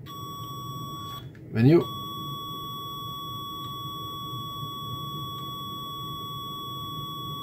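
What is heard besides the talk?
multimeter continuity beeper beeping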